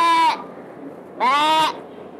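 A human voice imitates a goat's bleat twice, a short wavering bleat then a longer one after a pause, loud and close.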